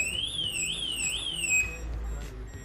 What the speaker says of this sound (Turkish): Alarmı devreye sokar ve bu vatandaşı kaçırır